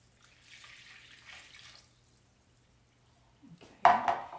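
Beef broth poured into a slow cooker while making pork chops, a short liquid splash and trickle near the end after a quiet stretch of faint kitchen clatter.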